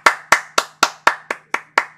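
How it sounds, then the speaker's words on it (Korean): One person claps eight times in a steady, even rhythm, each clap sharp, dry and close with brief silence between. "박수."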